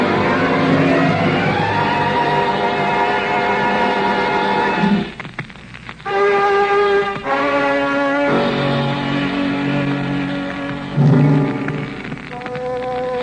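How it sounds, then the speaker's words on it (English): Radio drama sound effect of a convertible skidding on gravel and sliding sideways toward a cliff: a loud, sustained engine roar with grinding, crunching bursts and shifting tones, heard alone. "The car skidded on gravel and slid sideways toward the cliff."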